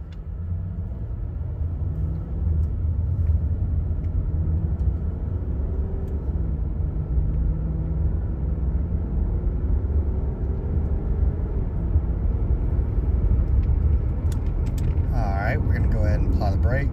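A 2008 Lexus LS460 on a test drive gives a steady, loud low engine and road rumble that fills the whole stretch, with a brief clicking near the end.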